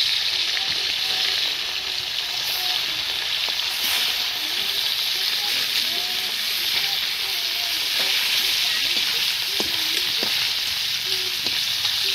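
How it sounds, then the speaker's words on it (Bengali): Small fresh freshwater fish fry in oil with a loud, even, continuous sizzle close up, broken by occasional faint pops and light clicks. "বন্ধুরা এই মাছগুলো ভাজা হতে থাক"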